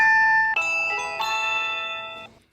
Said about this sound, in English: Little Timmy Foster, the sound of the Magic Band chime at the entrance to each of the parks.